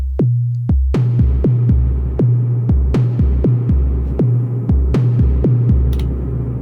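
A step sequence from an Elektron Syntakt drum machine, with reverb added to one step: a steady pattern of loud, punchy kick-like hits over a deep sustained bass drone, with clicky transients and a washed reverb tail, no voices.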